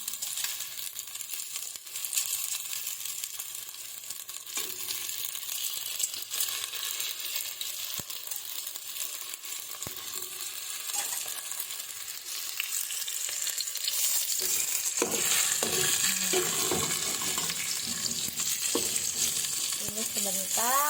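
Chicken pieces frying in a pan for Filipino tinola soup, a steady bright sizzle throughout that grows louder and busier toward the end, with occasional stirring clatter.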